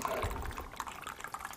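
Coconut water pours into a glass, a faint, close trickle with small gurgles and splashes that holds steady for a moment.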